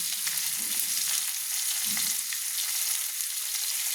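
Fish frying in a pan for a cauliflower fish curry, one side already browned while the other cooks; a steady soft sizzle hisses throughout with a few faint stirring or shifting sounds, no voices.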